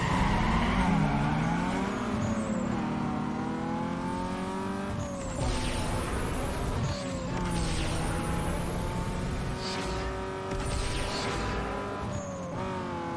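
Race car engines roar through a drag race in the video game Need for Speed Underground 2, with rising revs, gear-shift drops and tire squeals, loud and continuous.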